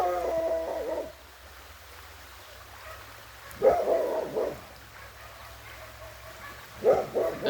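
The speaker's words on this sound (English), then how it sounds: "Who let the dogs out?" Dogs barking in a few separate bursts of several barks each, at moderate distance, with quiet gaps and low background hum between the bursts.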